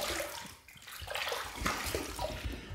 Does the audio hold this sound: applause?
no